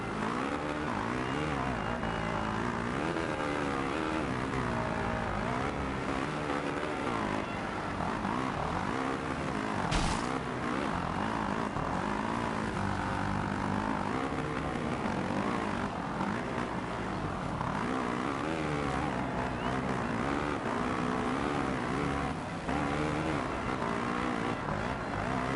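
Motocross bike engine in the MXGP2 racing video game, a loud continuous high-pitched drone that rises and falls with throttle changes throughout, with no pauses.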